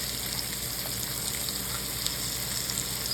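Flat iron steak sizzling on a grill, a steady dense crackle and hiss that holds evenly for the whole stretch, close and continuous with no voices.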